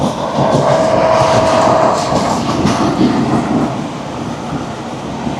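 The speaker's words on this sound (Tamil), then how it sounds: "ட்ரெயின் கிளம்பிடுச்சு." A second-class passenger train pulls away with a loud, close, steady rumble of rail cars and a rhythmic clickety-clack, a faint squeal early on, and the roar easing slightly toward the end.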